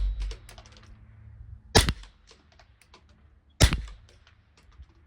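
Two sharp, close shots from a TM22 .22 rifle plinking steel targets at 100 yards, about two seconds apart, with small mechanical clicks in between.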